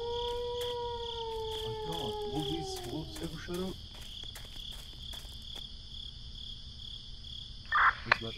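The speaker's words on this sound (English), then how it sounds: "I hear some howling coming from behind the house." At night behind a house, a long wavering howl rises and falls for a few seconds over a steady bed of chirping crickets, followed by quieter insect noise and a brief faint sound near the end.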